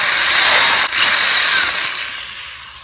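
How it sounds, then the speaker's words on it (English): A power drill bores a 3/8 inch hole through the side of a self-watering plant pot, a loud, close, steady high whine with a brief dip partway through before it trails off. "We're going to drill a 3/8 inch hole into the side of our pot"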